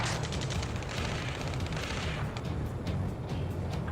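Gunfire and explosions in the Ace Combat 7 video game, a dense, continuous rumble of distant shooting and booms at low level, with no voices.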